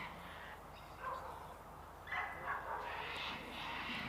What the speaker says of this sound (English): quite a few cockatoos and parrots around of various types that you can hear.